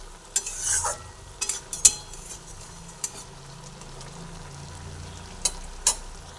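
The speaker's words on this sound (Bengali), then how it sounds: "কাঁচা লঙ্কাটা দেওয়ার পরে আবার একটু ভালোভাবে নাড়াচাড়া করে নিচ্ছি" Drumstick flower curry with green chili being stirred in a pan, with a soft continuous sizzle broken by a few sharp scraping and clinking strokes of the spatula against the metal.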